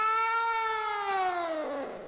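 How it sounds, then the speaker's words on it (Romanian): A recorded cat meow played back from tape in a 1975 film scene, a single drawn-out, loud, clear meow with a strong harmonic tone that slowly falls in pitch and fades at the end. "Am pus numai un miorlăit pe bandă."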